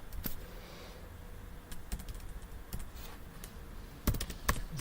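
Python code being typed on a computer keyboard, with bursts of quick key clicks separated by pauses, close and moderately loud over faint room noise.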